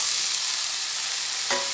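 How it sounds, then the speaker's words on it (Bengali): Eggplant and edible flowers frying together in a pan give a steady, dense hiss of hot oil, close and even, with one faint clink of a utensil near the end. "একসঙ্গে বেগুন আর যুক্তি ফুল ভেজে নিচ্ছি"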